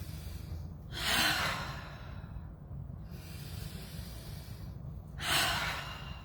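Deep breaths are drawn during a chair yoga session: two slow, airy, close-up breath sounds a few seconds apart over quiet room noise.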